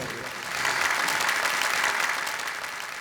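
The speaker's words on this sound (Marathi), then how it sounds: "तुम्ही सगळ्यांनी टाळी वाजवायचे" A crowd claps continuously for a few seconds, the applause swelling slightly then holding steady.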